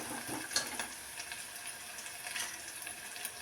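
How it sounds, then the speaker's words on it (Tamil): Ginger garlic paste sautéing in a pan gives a faint, steady sizzle and crackle with occasional soft stirring touches, heard alone at low volume. "இப்போ இந்த டைமில் 1 டீஸ்பூன் இஞ்சி பூண்டு பேஸ்ட்டு போடுறோம். நல்லா வதக்கிக்கலாம்."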